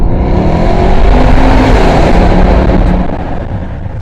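A Jaguar XK8 engine roars loudly under hard acceleration through an underpass, the sound filling the space and holding steady before easing slightly toward the end.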